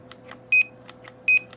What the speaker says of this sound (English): That's my little special Roger beep.